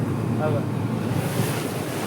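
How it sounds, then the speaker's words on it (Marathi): Sea waves wash onto Hedavi beach at Guhagar on the Konkan coast. The surf is a steady, close roar mixed with wind buffeting the microphone, and someone speaks briefly over it. "आणि समुद्राच्या लाटा"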